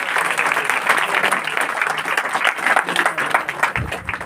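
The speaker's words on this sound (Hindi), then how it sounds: "एक बार जोरदार ताली बजा के" A church congregation breaks into loud, sustained applause, dense clapping filling the whole stretch with no talk over it.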